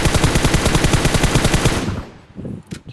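A video game gun fires a fast, loud, continuous automatic burst for about two seconds until it runs out of ammo, then falls to near silence broken by a few faint mechanical clicks.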